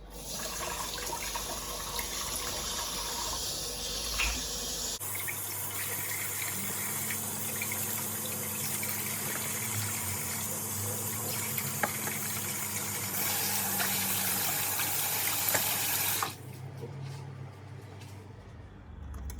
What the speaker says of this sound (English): Next, you want to pretty much just wash your aloes.